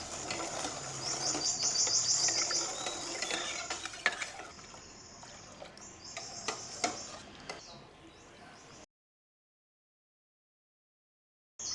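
Guilinggao jelly mixture being stirred in a pot, a steady scraping and clicking of the spoon against the pot, fairly close and continuous for about nine seconds before cutting to silence.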